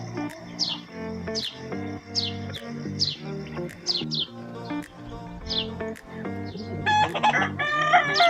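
A rooster crows repeatedly at a farm in Ras Al Khaimah, UAE, with smaller birds chirping and tweeting around it, the calls fairly close and steady, building to a busier chorus near the end.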